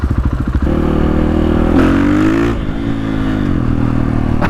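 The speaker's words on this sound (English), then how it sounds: "I pretend to go to first gear again just to hear the bike" A 450 supermoto conversion motorcycle idles with a lumpy thump, then revs up loudly into a rising whine before settling back, heard up close with no talking.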